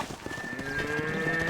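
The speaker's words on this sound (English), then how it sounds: "Herd the cows down the road." Cattle in the Red Dead Redemption video game low steadily as a herd is driven down a road, the lowing continuous and mid-distance over a busy ambient game soundscape.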